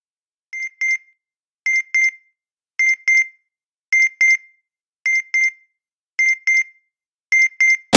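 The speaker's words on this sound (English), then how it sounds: "We're going to play a noise, going to be very high-pitched at the start." High-pitched test noise played as pairs of short electronic beeps, seven double pulses evenly spaced about a second apart in a quiet background, clear and close.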